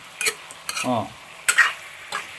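Chicken stirred in a pan for a Kerala-style chicken stew, with a handful of close scraping strokes and clinks of a spoon over a soft sizzle and no talking.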